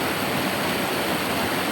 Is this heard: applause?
no